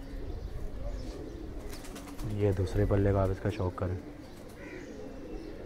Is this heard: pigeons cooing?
yes